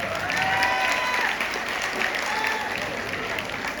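Audience clapping at a college of pharmacy farewell party, a steady dense wash of applause lasting throughout, with crowd noise and some voices mixed in.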